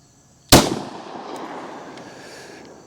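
A single loud 10mm pistol shot cracks sharply outdoors, then its echo decays slowly across the remaining seconds with no talking.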